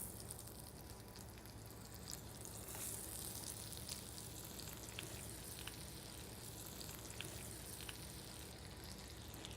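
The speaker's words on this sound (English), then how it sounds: "You can see our butter is sizzling hot." Peaches sauté in sizzling hot butter in an enameled cast iron skillet, giving a steady, fairly quiet frying crackle with scattered pops and no voices.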